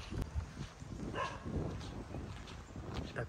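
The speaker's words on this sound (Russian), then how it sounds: "Собака на меня орет какая-то непонятная." A dog barks and yips at a durian farm in Chanthaburi province, Thailand, a few sharp, scattered calls over steady outdoor background noise at moderate distance, with no talking.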